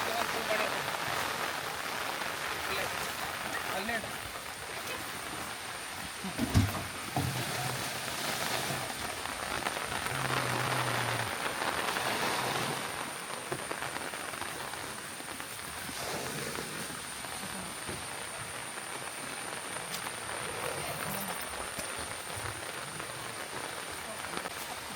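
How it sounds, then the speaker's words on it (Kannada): Rain falls on a farm plantation in the Malnad region, a soft, steady hiss of drops with occasional louder patters and a faint background tone. "ಮಳೆ ಬಂತೀಗ."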